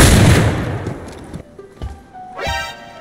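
Gunshots in the game DayZ: a loud, close burst of fire at the start, followed by a few sharper, fainter cracks and clatters.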